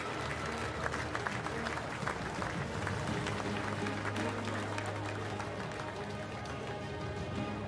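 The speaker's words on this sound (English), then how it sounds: "please, one more time, your applause for our medalists" A crowd in the Speed Dome velodrome in Perth applauds track cycling World Cup medalists, a steady moderate wash of clapping from a large arena audience with a low hum beneath, fading slightly toward the end.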